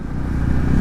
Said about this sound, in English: the guy behind me revving his bike is Malcolm the crazy guy